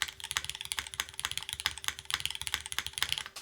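Alpha keys clack steadily on a mechanical keyboard with wave-shaped keycaps, fast and even, close and fairly quiet, with no talking.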